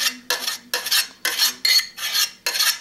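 A spoon stirs chocolate into cream in a bowl for ganache, scraping loudly in seven distinct rhythmic strokes with brief pauses between, close up and without talk.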